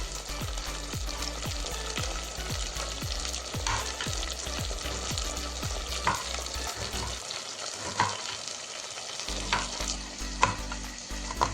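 Onions sizzle and crackle in hot oil for tempering an anchovy fish curry, with repeated stirring scrapes early on, then a steady frying hiss continuing close by without any voices.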